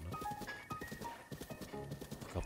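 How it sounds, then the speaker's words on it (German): Rapid rhythmic hoofbeats of a galloping horse in Zelda: Breath of the Wild, close and steady, with a brief whinny and faint background tones. "Macht übrigens enorm Spaß, mit dem Pferd hier rumzureiten."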